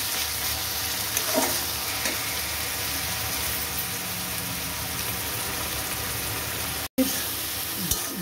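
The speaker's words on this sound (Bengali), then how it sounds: "গ্রেট করা পেঁয়াজটাকে ভালো করে কষিয়ে নেবো।" Grated onion paste frying with ginger in a pan, a steady soft sizzle with occasional scrapes of stirring, and one brief dropout near the end.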